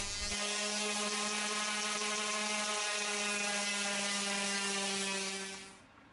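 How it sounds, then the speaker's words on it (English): Steady sanding of dried Bondo body filler on a 3D-printed life-size R2-D2 dome, a continuous buzzing power-sander drone with strong even harmonics, running loud and close for about six seconds before cutting off. "I sanded it smooth."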